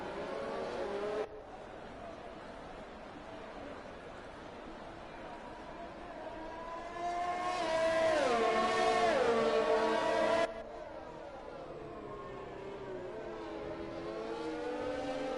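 Formula 1 race cars in the F1 2020 video game on a formation lap at Monza, a steady droning engine note that swells louder and shifts in pitch midway, with commentary-style voices faintly underneath.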